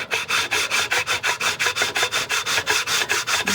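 Sandpaper is rubbed by hand across an exotic wood veneer in quick, even back-and-forth strokes, about a dozen rasping passes, loud and close with nothing else heard.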